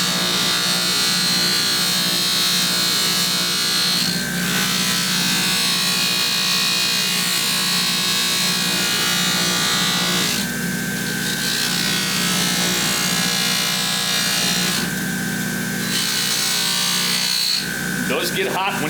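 A power tool buffs rust and crud off a weathered vintage wood hand plane, a loud continuous abrasive rubbing whir with a few brief dips in pressure, close up.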